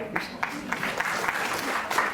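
Audience applause at a Carnatic music concert, a short burst of steady clapping from a seated crowd, moderately loud and fairly close, with no voices over it.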